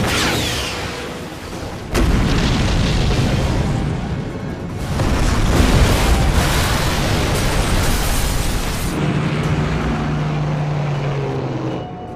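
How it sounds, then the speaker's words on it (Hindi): A huge bridge demolition blast in a war film: a sudden deep boom erupts, then a long rolling roar of debris and rumble swells and sustains for several seconds before easing, loud and close, with no talk. "एक और ब्रिज उड़ाने जा रहा हूं।"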